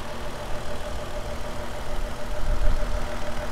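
A 2018 Lexus IS300 F-Sport's 3.5 liter V6 with a 6-speed automatic idling smoothly under an open hood, a close, steady low hum with slight swells and no talking.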